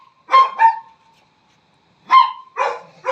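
A puppy yips and barks in short pairs of high, sharp calls, close and loud, separated by a quiet pause of over a second.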